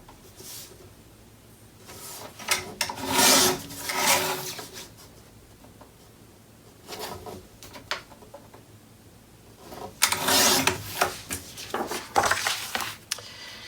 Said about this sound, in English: I'm taking my 8 by 8 page and trimming it down to 7 7/8 by 7 7/8.